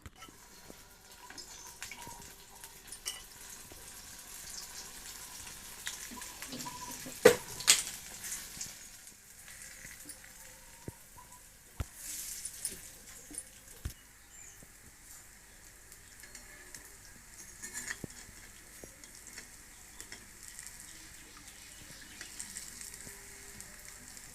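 Urad dal batter for punukulu fries in hot oil, a steady, quiet sizzle and crackle that runs throughout, broken by a few sharp clinks and splashes as pieces drop in and get turned.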